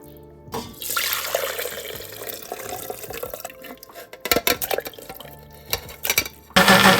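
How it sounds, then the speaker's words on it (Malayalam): Broth is poured into a beef barbacoa mixture, a close, splashing and gurgling stream in uneven bursts with brief pauses and a louder splash near the end, with no talk. "നമ്മൾ എടുത്തു വെച്ചിരിക്കുന്ന ബ്രോത്ത് ഈ മിക്സ്ചറിലേക്ക് ഒഴിക്കുകയാണ്."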